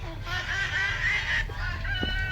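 An eagle cry sound effect: a long, shrill, wavering screech over a low rumbling background, fading into a couple of short squawks.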